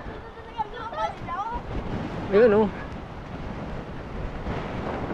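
Big sea waves surge in a steady roar with wind buffeting the microphone during Typhoon Odette on the Iloilo coast, while a person talks briefly over the noise.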